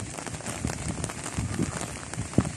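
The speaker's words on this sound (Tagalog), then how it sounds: "lakas ng ulan." Heavy rain during Typhoon Goring drumming on surfaces and a metal roof, a dense steady hiss with scattered close drop hits, moderately loud and continuous with no talk.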